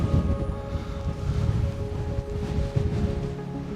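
Gusty wind buffeting the microphone on a clifftop by the sea at Filey or Scarborough, low rumbling roar with surf underneath, continuous and fairly loud.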